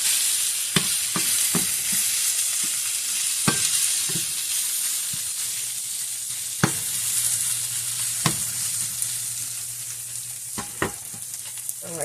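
Crispy German pork knuckle pieces fry in a pan with a constant bright sizzle, broken by a handful of sharp clacks and scrapes as the pieces are flipped.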